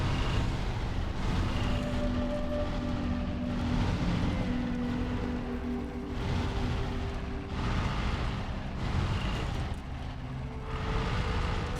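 A heavy truck engine drones on a narrow track in the SnowRunner video game, steady and continuous with slight swells in pitch as it crawls forward, no talk over it.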